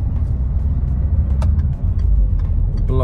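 A truck engine rumbles low and steady close by on a road, with small clicks and rattles over the continuous motor drone.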